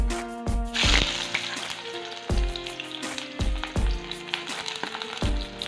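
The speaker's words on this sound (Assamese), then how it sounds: "এতিয়া তেলখিনি গৰম হোৱাত মই পিঁয়াজখিনি দি দিছোঁ।" Onions dropped into hot oil in a wok sizzle in bursts, broken by repeated rhythmic thuds and scrapes of stirring, close and fairly loud, with no talking.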